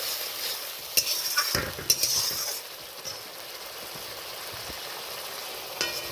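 Ground spices (cumin, coriander, chilli, turmeric) fry in a pan with a spoonful of hot water, giving a loud close hiss and bubbling sizzle with a few sharp stirring scrapes early on, then a steady fizz.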